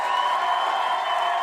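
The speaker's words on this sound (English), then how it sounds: "Let's have a round of applause for Sean Savoy" Live stand-up comedy club crowd in New York City clapping and cheering steadily at close range, a dense sustained wash of applause with scattered whoops and no pauses.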